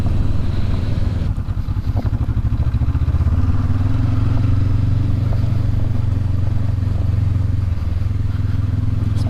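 Honda CB500X motorcycle on a gravel forest trail in Capitol Forest, Washington, its engine a loud, steady low rumble up close with faint gravel clatter underneath.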